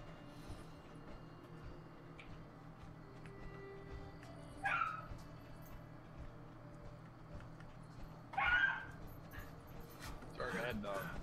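A special needs dog in a room gives short, sharp yelps, two distinct outbursts a few seconds apart followed by more yipping near the end, over a low background hum with people talking.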